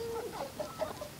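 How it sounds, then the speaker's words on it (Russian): Chickens cluck softly while pecking at and eating rose chafer beetles, a few short, close clucks and chirps repeating over a steady background. "а куры едят наших чайных бронзовок"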